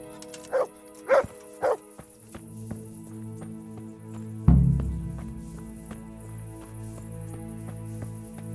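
A dog barks three times in quick succession, fairly close, in the video game Kingdom Come: Deliverance, then a thud leads into a low rumbling scene with music and ambient noise.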